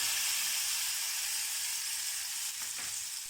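Hot tempering poured into mango pachadi sizzles in a steady, bright hiss that holds loud and even throughout, with a slight dip near the end.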